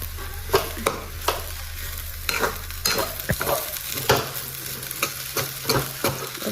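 Food being stirred in a pan by hand: a series of scraping, clacking spoon strokes at an uneven rhythm over a soft background sizzle, close and fairly clear with no talk.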